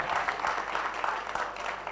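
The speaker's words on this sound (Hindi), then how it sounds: "एक बार आदित्य यादव जी के लिए एक बार तालियां बजा दीजिए उनके जश्न पर" Audience applause at a Lucknow mushaira honoring Aditya Yadav, a steady wash of many hands clapping at moderate level, continuous with no voices over it.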